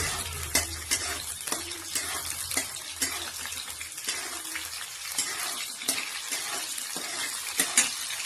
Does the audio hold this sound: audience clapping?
no